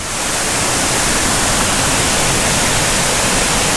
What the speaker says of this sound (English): And it's got the bigger waterfall right there.